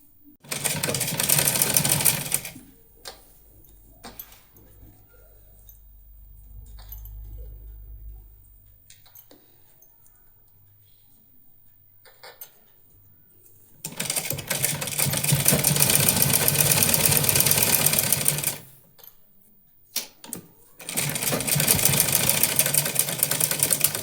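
A sewing machine stitches a skirt waistband with a drawstring inside, running in loud bursts at the start and end with a long quiet stretch of light handling sounds between.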